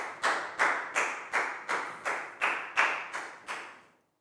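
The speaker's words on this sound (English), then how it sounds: "a big round of applause for Pat" Year 4 students in a maths classroom clap for a classmate in a slow, even rhythm of about nine sharp, ringing claps, each trailing off before the next, ending abruptly.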